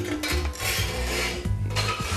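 A metal cooking pot set into a homemade chimney stove over a strong fire gives several clanking, scraping knocks of metal on metal, close and fairly loud, with no talk.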